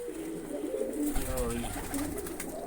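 An old three-to-four-year-old flying pigeon coos in low, rolling repeated calls close by, against a steady background hum.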